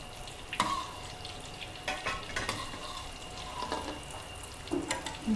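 A thick Thai omelette frying in a small amount of oil in a pan over medium heat, with a steady sizzle broken by sharper scraping and stirring clicks that come and go.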